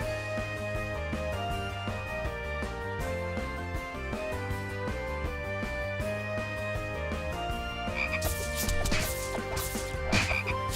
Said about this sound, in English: Now there's frogs instead of the same fairies that were there before.